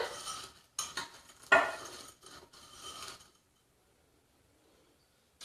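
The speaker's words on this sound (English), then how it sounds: "I am going to give that a little stir. Make sure that's all incorporated." A utensil stirs a mixture studded with peppermint bits, giving several close, scraping strokes against the bowl in quick irregular bursts for about three seconds before everything falls silent.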